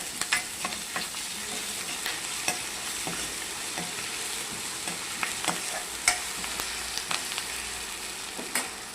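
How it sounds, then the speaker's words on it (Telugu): Turmeric and ginger-garlic paste being stirred into frying onions and curry leaves for a cabbage curry, a steady sizzle with repeated close spoon scrapes and clinks against the pan, no talking. "ఇలా వేయించుకున్నాక దానిలోకి పసుపు, అల్లం వెల్లిపాయ పేస్ట్ వేసుకొని చక్కగా ఇలా కలుపుకోవాలి."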